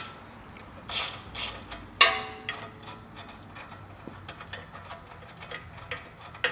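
Ratchet tightening the nut on an Old Man Emu steering damper for a Jeep Wrangler TJ or Cherokee XJ, a punch holding the stud; several separate clicking bursts near the start, then sparse light mechanical ticks.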